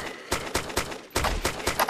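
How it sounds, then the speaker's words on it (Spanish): Rapid bursts of gunfire in the video game DayZ mod crack in quick succession, two volleys of sharp repeated shots, loud and close, with a brief pause between them. "Disparo, le disparo, le disparo."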